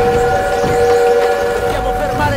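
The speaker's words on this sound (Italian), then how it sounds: "Dobbiamo fermare quel treno!" A steam train in the video game Call of Duty: World War II gives a loud, sustained whistle of steady tones over rumbling motion and engine noise, close and continuous.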